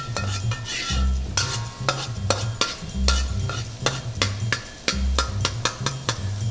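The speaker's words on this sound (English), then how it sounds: "We want to do the garlic and ginger. We want to stir it around and make it kind of aromatic." Garlic and ginger fry in a pan while a utensil stirs and scrapes them around, with steady sizzling and repeated clanks and knocks against the metal.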